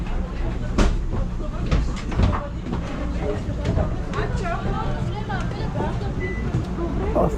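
A tram rolls along rails, giving a continuous rumble with rattling and clacking close by. Voices talk over it throughout.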